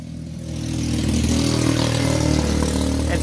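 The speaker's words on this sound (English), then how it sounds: "And speaking of a scooter, that thing was loud." A loud scooter engine passes close by, its steady mid-pitched drone swelling during the first second and then holding strong with a rattly edge.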